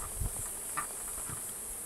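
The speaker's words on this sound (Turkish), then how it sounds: "Bu arıların uğultusu." Bees humming around a very large oak tree in summer, a faint, steady outdoor buzz with a few soft thumps and no voices over it.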